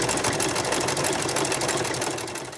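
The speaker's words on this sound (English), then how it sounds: "I like to get a matching color of thread and do a satin stitch along my edge. And just move it through the machine." A sewing machine runs a steady satin stitch along the edge of an iron-on fleece appliqué, a fast, even mechanical whir that stays loud and close throughout, then eases slightly at the end; no talking.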